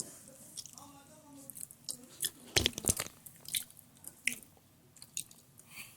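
Someone chews a homemade brownie close to the mic, with soft, wet bites and squishy mastication in uneven bursts and a few louder crunchy moments against a quiet background.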